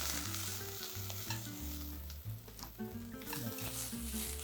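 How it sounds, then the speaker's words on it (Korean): Green onions stir-fried on high heat for beef and scallion soup, a dense crackling sizzle with repeated stirring scrapes of the utensil against the pan, close and continuous, with no talking. "불이 세니까 살살 이렇게 볶아줄게요."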